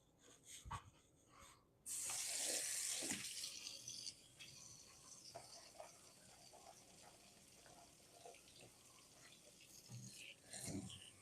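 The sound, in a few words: water running in sink while washing a strainer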